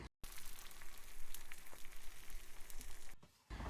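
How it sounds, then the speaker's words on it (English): Chopped onion and ginger garlic paste sautéing in a pan give a steady close sizzle with small crackling pops, with a short silent gap at the start and another near the end. "Saute until onion turns golden brown."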